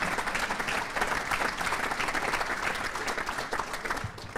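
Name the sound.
applause at governor's dinner speech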